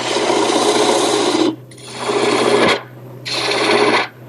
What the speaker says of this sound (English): I'm starting to trim down the last 3 inches that becomes the dowel